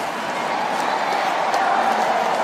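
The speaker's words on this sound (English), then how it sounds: "The crowd are getting behind their man." A large crowd cheers at the Asian Games 2018 swimming final, the 1500m freestyle, for Nguyễn Huy Hoàng, a dense, steady roar of voices filling the pool arena throughout.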